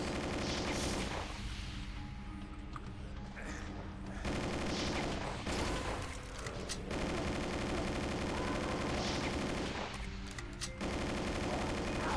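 Enemy missile fire and explosions in the video game Doom 2, loud, dense bursts of gunfire-like blasts running almost continuously through the clip, with no talk over them.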